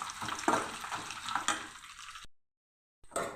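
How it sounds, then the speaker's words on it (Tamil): Dried red chillies frying in oil for a lentil chutney give a close, crackling sizzle with small pops for about two seconds, then cut to silence before the sizzle briefly resumes. "மிளகாய் வந்து எண்ணெயில் லைட்டாக வதங்கினா போதும்."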